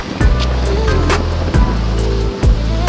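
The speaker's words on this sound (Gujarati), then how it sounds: "બહુ ખતરનાક નદી આવી." The flooded Madhuvati river near Pata village overflows with a loud, steady roar of rushing water, broken by a few heavy low thumps.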